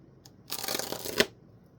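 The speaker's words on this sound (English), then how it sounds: "I'm going to cut this about here, or well, not cut it, more as score it" A knife scores a sheet of packaging material for shipping a Radio Shack TRS-80 Model II disk system, one brief, close, rasping stroke lasting under a second against a quiet background.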